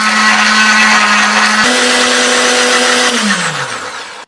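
A loud electric blender whirs steadily grinding spice paste with a little water, its motor pitch jumping midway, then winding down as it switches off near the end.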